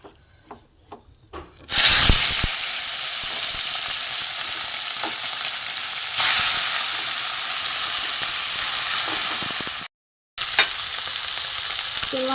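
Small chuno fish, rubbed with salt and turmeric, sizzle loudly in hot mustard oil in a pan, a dense steady hiss that swells as the fish go in, with brief scraping and one short gap.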